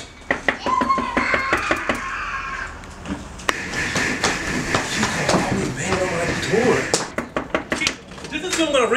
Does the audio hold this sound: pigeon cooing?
no